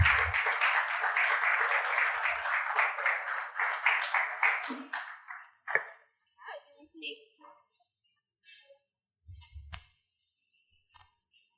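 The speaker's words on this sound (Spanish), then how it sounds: "Recibámosles con un gran aplauso." Audience applause at a congregation gathering, dense clapping for about five seconds that tapers into a few scattered claps, followed by quiet room sounds and brief voices.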